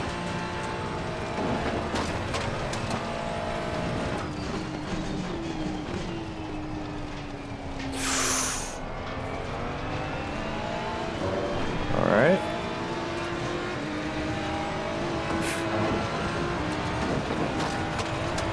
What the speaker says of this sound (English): Man, those V10s sound good.